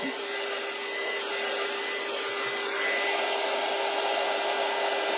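Heat tool blowing hot air onto taped paper to loosen the tape, producing a steady loud whooshing roar with a constant motor whine, close and uninterrupted.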